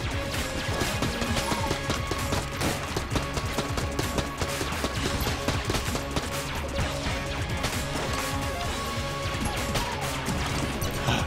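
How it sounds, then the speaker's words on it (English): Objects smashing apart in the bullet-hell dungeon game Enter the Gungeon, a dense, continuous barrage of loud crashes, cracks and impacts layered over game music, with no pause throughout. "Break things, get loot."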